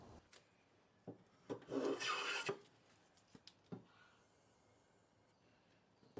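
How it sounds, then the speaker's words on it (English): A hand plane shaves along a wooden board edge to remove saw marks, in a couple of rasping strokes, with scattered knocks and taps between them, fairly quiet. "I'll keep planing the edge until these saw marks disappear"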